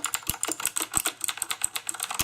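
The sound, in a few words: typing on a blue switch mechanical keyboard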